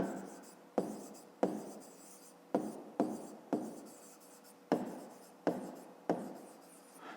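Pen strokes on paper while working a grade 5 maths exercise: a series of sharp scratchy writing bursts, each fading out, repeating roughly every half second to second, close and quiet.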